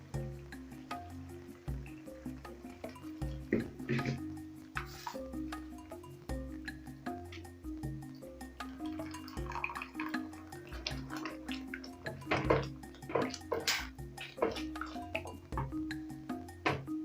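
Coconut cream poured into a simmering fish curry, giving soft dripping and bubbling liquid sounds close by, with small irregular splashes over a steady low background hum.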